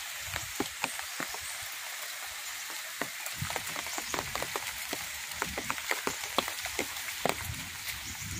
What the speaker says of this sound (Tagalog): malakas na pag-ulan.